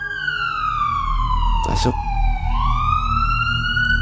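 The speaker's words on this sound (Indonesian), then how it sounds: "suara sirine mobil ambulan datang" A wailing ambulance siren arrives at a hospital guard post near the morgue, loud and close, its tone sweeping down and then rising again, with a brief spoken word over it.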